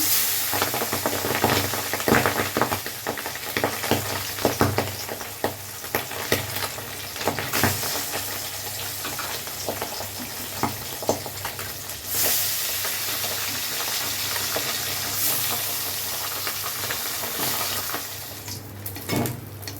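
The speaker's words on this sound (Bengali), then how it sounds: "সর্ষের তেল দিলাম মাছগুলো ভেজে নিচ্ছি" Pabda fish fry in mustard oil in a home kitchen, a steady close sizzle and hiss with occasional scrapes and stirring clinks throughout.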